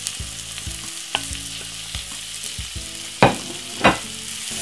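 Onion, spring onion and seasoning brown in a hot pan, giving a close, busy sizzle and crackle, with a few sharper scraping stirs near the end and no voices.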